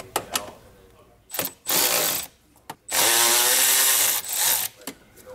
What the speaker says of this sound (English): I love this darn high speed 3/8 ratchet.